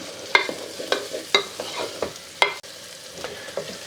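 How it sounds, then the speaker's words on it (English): Mushrooms and finely diced onions fry in a pan with a steady sizzle, while a utensil scrapes and stirs them in sharp, irregular strokes about every half second, close and fairly loud. "So we're continuing to stir the mushrooms and the onions."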